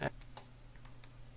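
A computer mouse clicks a few times in quick, faint succession over a steady low hum, with no speech.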